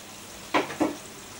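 A homemade tortilla cooking in a pan gives two short sizzling bursts, one after the other, close by over a quiet kitchen background.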